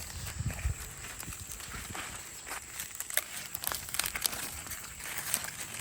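Husks being peeled back by hand in a summer garden, giving soft, irregular crinkling and tearing rustles close up, fairly quiet, with a few louder snaps near the start.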